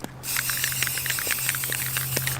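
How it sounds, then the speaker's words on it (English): A spray paint can sprays a steady, close hiss that starts abruptly after a brief pause and holds without a break, with a low electrical hum running underneath. "I'm gonna spray paint them blue."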